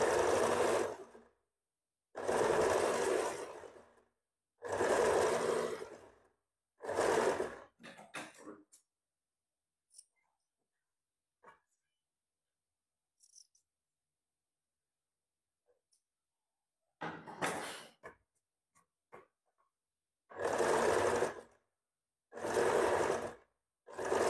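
A sewing machine stitches a strip onto a princess-cut blouse in repeated loud bursts of rapid whirring, separated by quiet pauses with faint handling noises.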